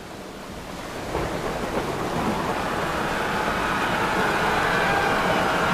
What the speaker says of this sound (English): a cruel sea elected to whip up a thunderous and mighty squall